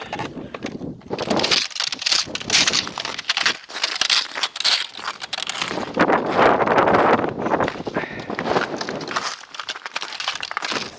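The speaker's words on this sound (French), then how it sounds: "Le vent est fort, mais c'est magnifique." Strong wind on a winter sunrise summit hike at Mont Gosford, around -30 degrees, buffets the microphone in loud, uneven gusts, roaring and dropping off with brief lulls between.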